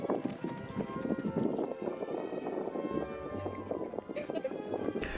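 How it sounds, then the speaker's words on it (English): Horse hooves clip-clop on the ground at a herding event on a track, a steady uneven beat with other background noise and people's voices mixed in. "Travis is settling his horse"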